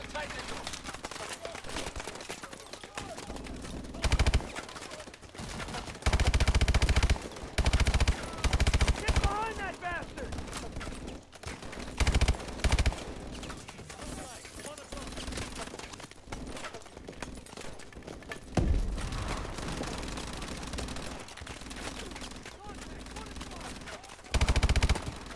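Machine gun fire from an armored turret in the Call of Duty: Advanced Warfare campaign mission Traffic, with repeated loud bursts broken by short pauses across a long battle, and voices speaking between the volleys.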